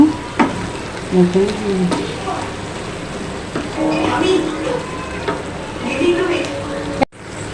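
Kochur loti (taro stolons) with prawns cooks in a pan, giving a continuous, close sizzle with occasional stirring scrapes and a faint voice murmuring underneath.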